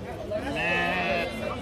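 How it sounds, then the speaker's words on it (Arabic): Sheep bleat in a crowded Aswan livestock market holding fourteen rams and five lambs, a sustained wavering cry rising over steady background chatter and market noise. "14 خروف يا جماعة"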